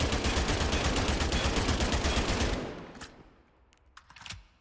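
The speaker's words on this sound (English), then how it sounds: "this is just an LMG" Sustained rapid light machine gun fire from the FPS game Spectre, loud and continuous for over two seconds, then cutting off into a few sparse sharp shots and clicks trailing away.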